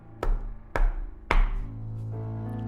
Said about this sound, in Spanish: se escuchó tocar la puerta